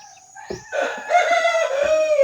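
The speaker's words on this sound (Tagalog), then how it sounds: "Kasi yung tilaok niya napakaganda talaga." A single labuyo rooster crows nearby, a loud, drawn-out call that rises and holds before trailing off.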